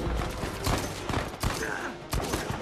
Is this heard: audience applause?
no